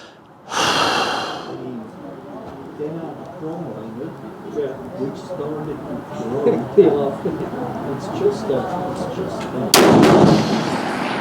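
Swiss Martini Jagdstutzer rifle fired at a 300 m range: one sharp, loud shot near the start and another close report near the end, with someone talking at length in between.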